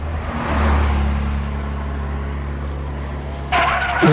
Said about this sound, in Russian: Машина едет далеко от нас.